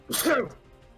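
A single sharp sneeze bursts out close by, brief and forceful, with a faint voiced tail.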